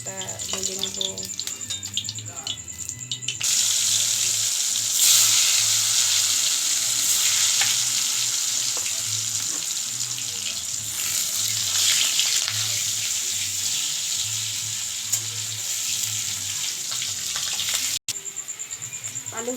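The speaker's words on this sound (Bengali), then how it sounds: "তারপরে আলুটা ভেজে নেব।" Potatoes fry in a pan, making a loud continuous sizzle that holds for many seconds, with a voice speaking in the background part of the time.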